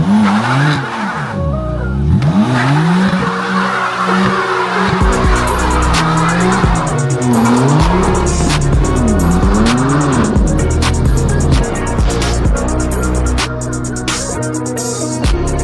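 BMW M4 accelerating hard with loud, continuous tire squeal and skidding, the engine note rising and falling through repeated sweeps, close and dominant throughout.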